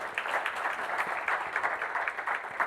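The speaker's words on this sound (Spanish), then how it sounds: "Un aplauso para él y que empiece." Steady audience applause at a public talk on the sustainability crisis, a dense even patter of many hands clapping at moderate level throughout, with no voices over it.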